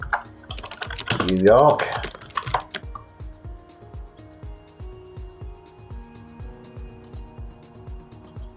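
Rapid clicking keystrokes on a computer keyboard, a dense burst near the start with a voice speaking over it, then steady rhythmic tapping continuing under background music.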